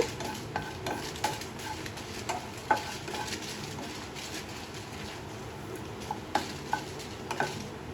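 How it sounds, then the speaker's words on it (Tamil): Dried red chillies and tamarind dry-roasting in a pan for peanut chutney, a steady low sizzle broken by scattered clinks and scrapes of a spoon stirring, close up, with no voices. "நல்லா காஞ்ச மிளகாயும் புளியும் வறுத்துக்கோங்க"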